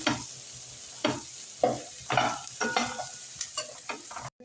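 Chilli powder being stirred into a vegetable biryani mixture in a pan: a quiet steady sizzle under a series of distinct scraping strokes of a spoon, close by, with no voices.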